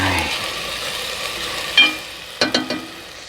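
Chopped vegetables for jambalaya sweat in a pot under a low, steady sizzle, while a big metal spoon gives one scrape and then a quick run of three clanks against the pot near the end.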